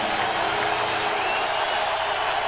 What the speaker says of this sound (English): The Indianapolis crowd on their feet. This is the loudest it's been all afternoon.